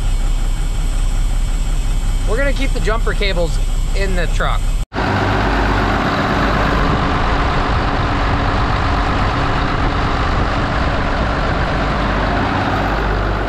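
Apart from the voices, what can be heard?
diesel truck engine idling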